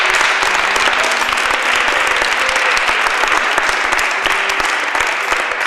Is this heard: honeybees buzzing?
no